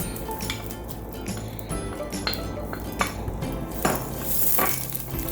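Chopped onions dropped into hot oil in a pan, close sizzling mixed with clinks and scrapes of a utensil against the pan.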